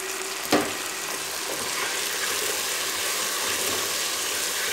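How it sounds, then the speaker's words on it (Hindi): Boiled mutton frying in a pan with fried onions gives a steady, close sizzle with a brief clatter near the start as the meat goes in, and no talk. "अब हम इसमें जो मैंने मटन को बॉईल करके रख लिया था उसको फ्राई करेंगे इसमें डाल"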